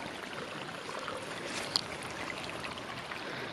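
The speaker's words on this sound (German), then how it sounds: "da fließt das Wasser auch in den Bachlauf und dann in den Teich" Water trickling into a garden brook that feeds a pond in a private park, a faint, steady low babble heard outdoors with no talk.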